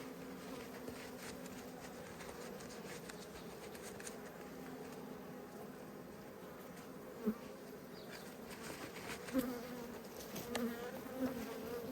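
Honey bees buzz steadily at a hive opened for a late-winter inspection, a soft continuous drone with a few brief louder bumps and clicks toward the end, no one talking.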